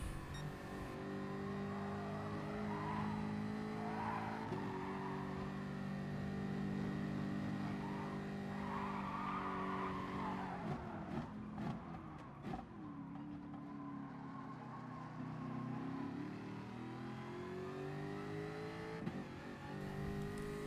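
Racing video game with race car engines held at a steady drone, shifting and revving through corners, with brief tire skids around the middle and engine notes dipping and climbing again.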